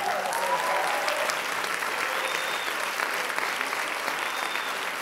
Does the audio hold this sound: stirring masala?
no